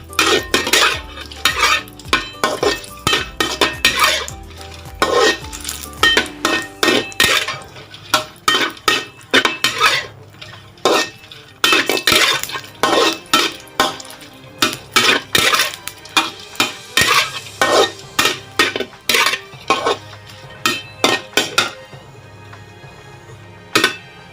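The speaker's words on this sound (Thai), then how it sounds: "เอาพริกแห้งมาคั่วครับ เอาไว้คั่วเอาไว้กับนะครับ ก็ใช้ไฟอ่อนๆนะครับ" Dried chillies are dry-roasted in a pan over low heat, with a metal spatula or spoon scraping and clinking against the pan in a steady, repeated stirring rhythm, loud and close with no talking.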